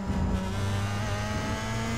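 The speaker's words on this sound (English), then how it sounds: "Not only to keep that car in a straight line, but he's let Marcelo Caruso through" Open-wheel race cars of the Pro Mazda Championship run at the Road America circuit, a loud, sustained engine drone that holds steady with a slight rise in pitch and no commentary over it.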